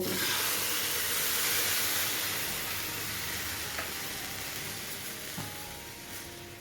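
Milk goes into a pan of fried flattened rice for a sweet prasad, setting off a loud sizzle and steamy hiss that slowly fades, with faint stirring clicks near the end.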